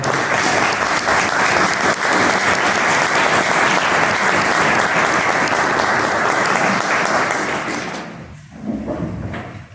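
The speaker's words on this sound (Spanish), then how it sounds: "espero que tengan ahora el placer y el honor de recibirlo con un fuerte aplauso" A large conference audience gives loud, sustained applause that fills the hall for about eight seconds, then thins out and fades to scattered claps and faint room noise.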